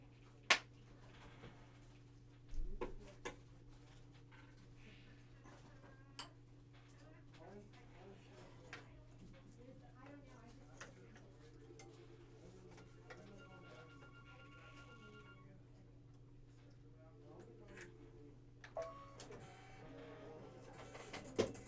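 An embroidery machine stitches out a Kimberbell July 4th panel design, a steady low mechanical hum with rapid ticking and occasional clicks, while faint voices murmur in the background.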